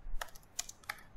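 A few quick, crisp keystrokes on a computer keyboard, three or four faint clicks spaced across about a second, with no talking.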